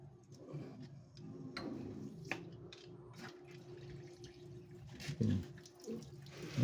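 Water drips from a motor-pumped tap in a home toilet room, the faint, irregular drops and ticks sitting low against a steady background hum.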